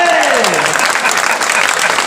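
An audience at a comedy show in Narwar claps in a brief, dense burst of applause while a voice speaks over it.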